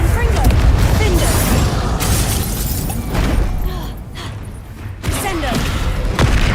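Confringo fire-spell blasts in Hogwarts Legacy: loud, booming impacts with thuds and shattering debris, repeating over a dense, rumbling battle bed, with a voice speaking at times.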